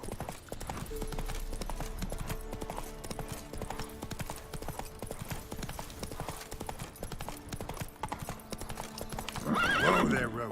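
In The Witcher 3 video game, a horse's hooves clop steadily at a walking pace for several seconds, then a loud whinny rings out near the end, with music playing faintly underneath.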